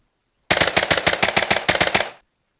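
An automatic gun in a Minecraft gun mod fires a rapid burst of about fourteen loud, sharp shots in quick, even succession, lasting under two seconds and ending abruptly, with no talk.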